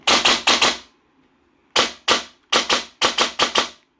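G&G Wild Hog airsoft rifle on a MOSFET setup with a 50C battery, fired in sharp semi-auto test shots: a quick triple, a gap, then pairs and a fast run of snappy reports, close and loud with no talk.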